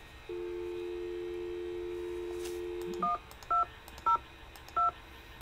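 A telephone keypad emits a long steady dial tone, then four short dual-tone dialing beeps at an even pace, clear against faint background hiss.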